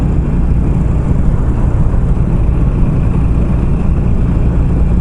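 A Harley-Davidson Sportster Classic motorcycle being ridden on a twisty road, with a steady, loud engine drone and wind rumble running continuously without a break.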